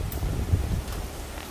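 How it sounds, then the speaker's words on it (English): Hurricane Ian wind gusting in Tampa, Florida, a steady low rumbling rush with rustling leaves and microphone buffeting that swells slightly and then eases. "There's one of those gusts."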